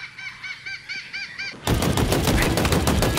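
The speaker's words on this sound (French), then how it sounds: "Oh le bruit que ça fait. On dirait un fusil de combat beaucoup plus lourd." Commando automatic rifle in the video game Halo Infinite, a sudden loud burst of rapid heavy gunfire cutting in after a stretch of quieter warbling game tones.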